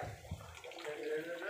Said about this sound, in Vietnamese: Anh xả nước ở trong đó đây.